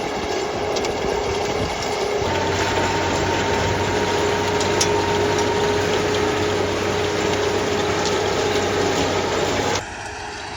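A tractor runs at about 2,500 rpm while pulling a power harrow during field cultivation, giving a loud and continuous mechanical drone with a steady whine, then stops abruptly near the end.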